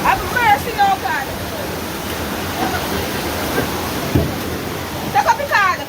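Floodwater rushing through a house in Jamaica, a steady loud roar of flowing water with voices talking over it at the start and end.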